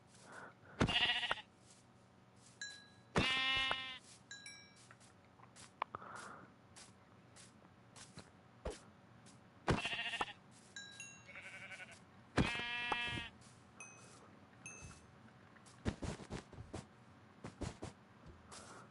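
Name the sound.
sheep bleating in video game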